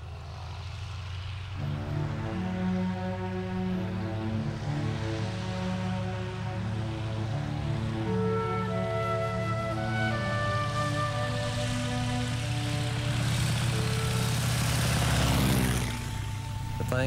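A Travel Air biplane's propeller engine runs steadily and loudly throughout, a constant throbbing drone with layered harmonic tones that rise slightly, then ease off near the end.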